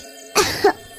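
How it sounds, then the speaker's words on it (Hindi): A woman's single cough, a short double-burst hack that is loud and close, alone against a quiet background. "उसे खांसी उठती है।"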